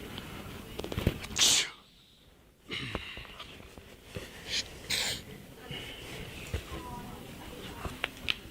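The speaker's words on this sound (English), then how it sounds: "Oh, I'm just sneezing, dude." A man sneezes sharply once near the start, loud and close, followed later by another short burst amid casual chatter between people talking nearby.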